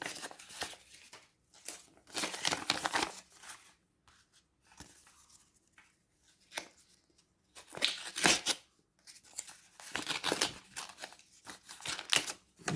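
Paper envelopes being torn open and handled, with bursts of crisp tearing and rustling paper coming in uneven clusters separated by quiet gaps, close and fairly loud.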